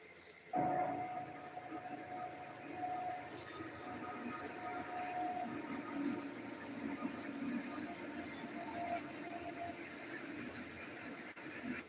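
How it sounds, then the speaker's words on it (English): A train rumbles past steadily for the whole stretch, with a thin metallic wheel squeal rising over the roar near the start. "Aside from the trains, it's been pretty quiet."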